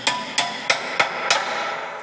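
A hammer strikes metal in five sharp, ringing blows at an even pace, each with a short metallic ring. The bolt being struck is used as a driving tool during a vehicle install, and the sound is close and loud.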